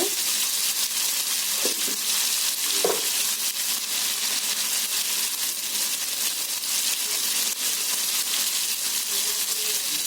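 Ginger paste sizzles in a pan with eggplant, a steady soft hiss with a few faint stirring clicks early on, no voices.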